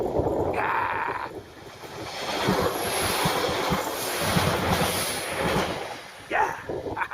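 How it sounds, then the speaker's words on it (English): A train rolls past a railway crossing close by, a steady loud rumble with rhythmic wheel clatter lasting throughout, overlaid with wind buffeting on the microphone and a short tonal sound near the start and again near the end. "There's a train coming"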